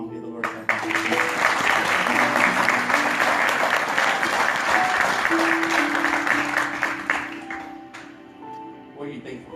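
A church congregation breaks into loud, sustained applause and clapping for several seconds, then it tapers off as a voice resumes speaking.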